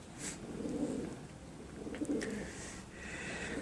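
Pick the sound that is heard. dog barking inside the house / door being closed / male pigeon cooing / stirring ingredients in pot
male pigeon cooing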